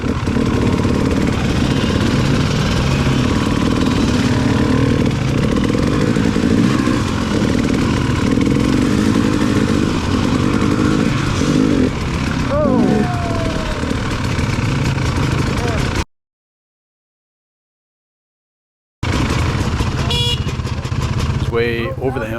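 Dirt motorcycle engine revving and chugging loudly on a muddy trail ride, close and continuous with rough throttle bursts, a brief gap of silence, then engine noise resuming.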